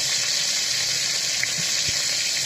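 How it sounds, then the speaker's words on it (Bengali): Hilsa fish frying in hot oil in a wok (kadai), a steady, even crackling hiss of sizzling oil held at a constant level throughout, with no voices. "মাছ ছেড়ে দিচ্ছি তেলটা বেশ সুন্দর গরম হয়েছে"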